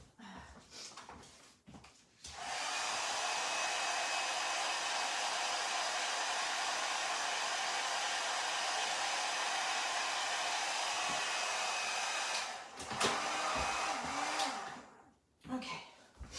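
A heat tool blows hot air over scraps of craft paper, making a steady, loud whirring hiss for about ten seconds, with brief handling clatter before it switches on and after it stops.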